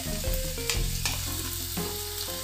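Finely chopped garlic and a small piece of ginger sizzle in hot oil in a pan, a soft steady frying hiss with a few clinks of a spoon stirring, no voices.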